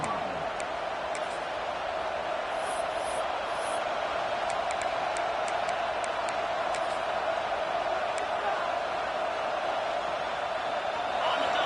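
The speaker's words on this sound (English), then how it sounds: "This crowd knows when to bring it." Steady stadium crowd roar from a college football video game, an Oklahoma Sooners home game against Alabama, holding at an even, loud level throughout with faint ticking and brief higher accents.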